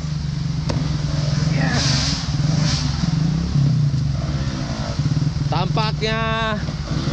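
Trail motorcycles rev and drone steadily through a forest track, loud and continuous, with clatter over the engine noise and excited voices near the end.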